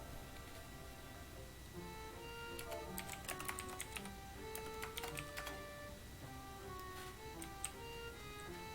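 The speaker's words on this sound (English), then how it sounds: "More typing." Quiet typing on a computer keyboard, a steady run of light, irregular key clicks over a faint hum, with no voices.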